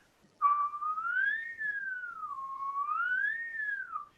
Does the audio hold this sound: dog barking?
no